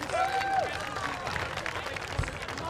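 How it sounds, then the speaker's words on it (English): Faint applause and scattered clapping from a crowd at a buhurt armored combat tournament, greeting an event organizer. It runs steadily for a few seconds, with a thin whistle-like tone early on and a murmur of voices beneath. "please a round of applause for Master Joel"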